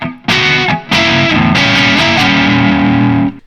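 Distorted electric guitar chords ring out loudly with heavy effects, strummed in short bursts then sustained, with no voices.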